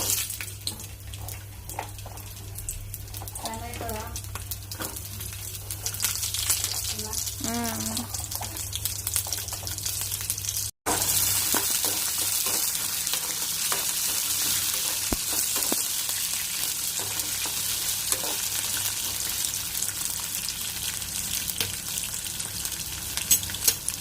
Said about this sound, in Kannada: ಬೆಳ್ಳುಳ್ಳಿ, ಶುಂಠಿ ಸ್ವಲ್ಪ ಫ್ರೈ ಆಗಲಿ.